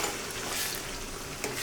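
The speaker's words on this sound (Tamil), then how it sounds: "போட்டுட்டு 10 நிமிஷம் நல்லா வேகட்டுங்க எண்ணெயிலேயே." Lemon pieces frying in hot oil in a pan for Tamil-style lemon pickle, a steady close sizzle and bubbling throughout with faint stirring.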